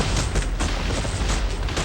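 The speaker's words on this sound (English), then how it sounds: "It developed into one of the most savage artillery duels of the entire war." Civil War cannon fire in a savage artillery duel at Gettysburg rolls on as a continuous, loud, rumbling barrage, with dull booms blending into one dense roar and no voices.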